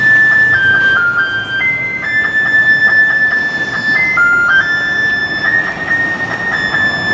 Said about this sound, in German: Ein Jinglebell spielender Müllwagen.